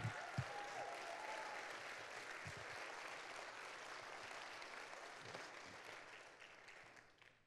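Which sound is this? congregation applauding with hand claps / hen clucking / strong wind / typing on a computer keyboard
congregation applauding with hand claps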